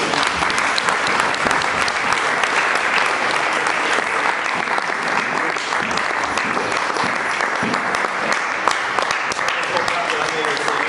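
A church congregation applauds during a sermon, sustained loud clapping filling the hall throughout, with a voice speaking over it.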